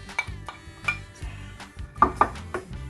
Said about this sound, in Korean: 그 다음에 순서는 제일 먼저 양파, 물이 좀 있는 양파 먼저 깔게요.